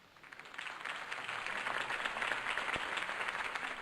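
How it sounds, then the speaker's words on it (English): Crowd applause for Harvey Dent's campaign speech in the Batman Telltale Series video game. It swells from quiet in the first half-second into sustained, even clapping that stays moderately loud to the end. "If only Mr. Wayne, my campaign's largest backer, could have heard that applause"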